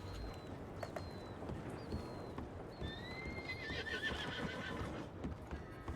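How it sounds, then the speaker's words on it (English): A horse in a video game whinnies with high rising calls over steady hoof clip-clops and a busy rumbling background, the neighs repeating at moderate loudness. "There's a horse right there."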